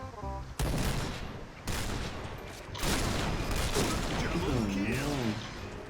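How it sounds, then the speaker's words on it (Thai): Loud, dense bursts of video game gunfire from a Barrett sniper rifle rattle almost continuously, with heavy volleys and a sweeping electronic tone near the end. "เสียงปืน โคตรจะดัง เลย"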